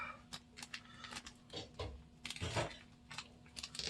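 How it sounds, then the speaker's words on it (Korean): Scissors snip and crunch through the foil of a Yu-Gi-Oh card pack close up, giving a quick series of uneven crackling cuts and rustles with no talking. "가위로 잘라본 거 처음인데."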